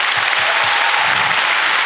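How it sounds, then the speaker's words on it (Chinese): Audience applause fills the hall at a concert, a dense, steady, loud wash of many hands clapping without pause and with no voices. "请大家先给自己一个大大的掌声鼓励"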